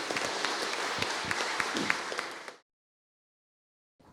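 An audience at a labour and union forum applauds, a dense burst of clapping from a crowd that runs steadily for about two and a half seconds, cuts to silence, then briefly resumes.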